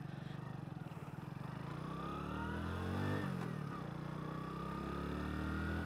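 A motorcycle with an i3s idle start-stop system out on a ride, its engine giving a steady close drone that swells and eases as it accelerates, with no talk over it.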